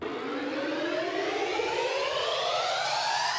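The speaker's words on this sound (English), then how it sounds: "And white noise reversed as risers." A reversed white noise riser in a future bass production, a dense wash of noise sweeping steadily upward and holding loud throughout, with no voices.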